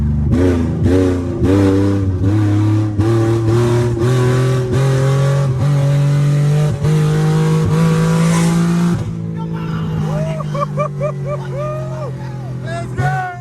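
A VR30-swapped Infiniti G37, driven with no exhaust, revs hard and screams close by, with sustained rising and falling engine tones through most of the stretch before easing off near the end, over a background of voices.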